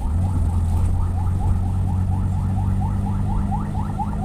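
Ambulance siren wailing in a steady repeating pattern, loud and continuous over a low rumble of vehicle engine noise.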